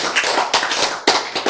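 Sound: audience applause

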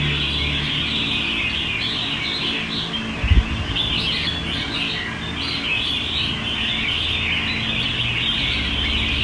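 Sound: songbird singing

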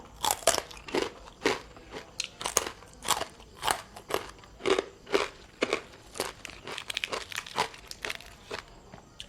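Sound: crunchy pork rinds being chewed

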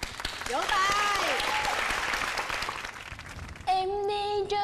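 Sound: applause

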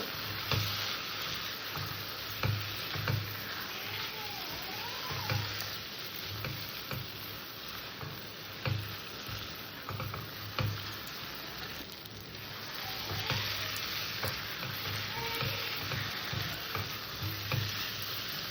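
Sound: sautéing potatoes in a pan with spices

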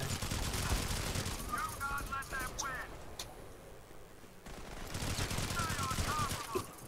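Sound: gunfire in a video game squad battle

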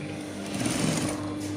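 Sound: sewing machine stitching a top

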